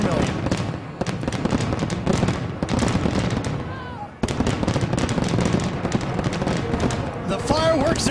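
Crowded, continuous rumble of fireworks bursts and crackles at the 2011 Monster Energy Cup, a motorcycle race event, under an excited announcer's voice and cheering, loud throughout with a brief dip midway.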